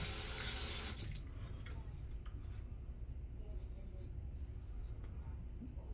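A bathroom tap runs hot water in a steady, close rush during a wet shave with a copper razor, continuous from start to finish.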